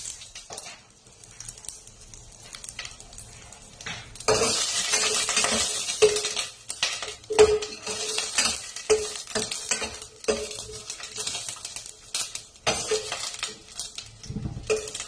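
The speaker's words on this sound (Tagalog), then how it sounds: "nagpainit na tayo ng mantika. So, lalagay na natin itong ating seeds." Seeds crackle and sizzle as they fry in hot oil, with a steady frying hiss, repeated scraping and clinking of a utensil stirring the pan, loud and close.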